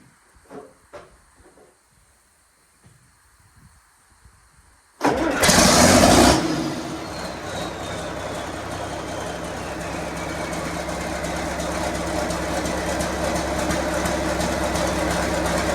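A rebuilt John Deere 4440 tractor engine cranks and fires after a few seconds of faint clatter, catching with a loud burst before settling into a steady, rumbling diesel idle that runs on close by.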